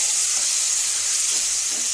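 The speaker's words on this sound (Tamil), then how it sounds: "கடலைப்பருப்பு உளுத்தம்பருப்பு கடுகு கருவேப்பிலை தாளிக்கிற வடகம் எல்லாம் போட்டு தாளிச்சிருக்கேன்" Steady, bright sizzling of mustard seeds, lentils and curry leaves frying in hot oil, close and continuous with no voices.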